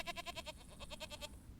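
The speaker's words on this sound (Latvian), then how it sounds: "Āzis nemēdās. Viņš runā āžu valodā." A billy goat gives two quavering bleats in quick succession, each with a fast rhythmic tremble, heard faintly and alone.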